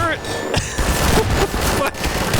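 Turret gunfire in Half-Life 2 played in VR comes as a few loud, sharp bursts of rapid shots, with a shouting voice over the action.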